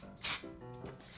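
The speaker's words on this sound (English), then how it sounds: "I'm gonna spray a little texture spray in here" Texture spray hisses onto hair in two short bursts, a brief quiet pause between them, close and fairly loud with no talking.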